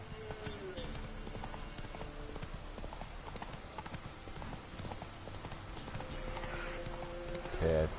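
Rhythmic clip-clop of a horse's hooves galloping steadily in the video game The Witcher 3: The Wild Hunt, fairly quiet and continuous with a brief louder burst at the end.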